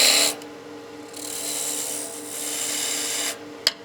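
A skew chisel makes a peeling cut into wood spinning on a lathe, giving a steady hissing, rasping shave that rises and holds for a few seconds, close up, ending with a faint tap.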